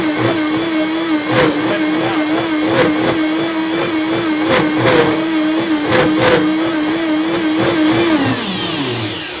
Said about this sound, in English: They're meant to make hot soups, but I'll really thoroughly blend the nuts.